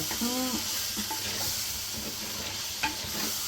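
Crabs cook in a thick masala, sizzling steadily up close while a spoon stirs and scrapes the pan now and then.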